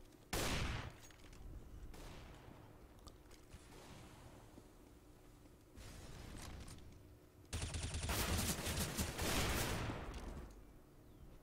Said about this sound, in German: Da gab es wieder den unkontrollierten Spray. Das halbe Magazin schon weg.